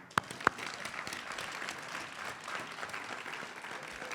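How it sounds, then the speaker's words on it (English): A crowd applauds at an affordable housing grand opening, two sharp close claps up front and then a quiet, steady patter of many hands further off. "So a quick round of applause for the building"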